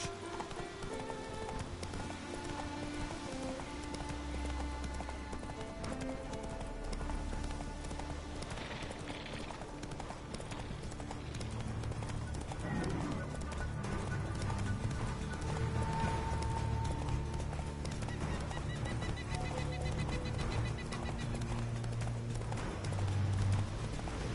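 Hooves of the horse Roach galloping in The Witcher game, a steady rapid clip-clop running continuously beneath layered music, with an occasional faint whinny.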